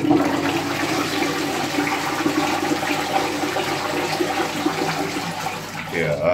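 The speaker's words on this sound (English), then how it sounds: "that's a good flush" An Ideal Standard Alto toilet flushing in a pub washroom, a strong continuous rushing of water filling the whole stretch at close range before tapering at the end.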